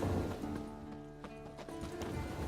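Rhythmic clip-clop of a horse's hooves trotting in The Witcher 3, with a faint whinny, fairly quiet and game-like in tone.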